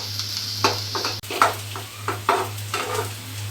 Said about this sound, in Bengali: এই যে পেঁয়াজটা ভাজা হয়ে গেছে, খুব বেশি ভাজবো না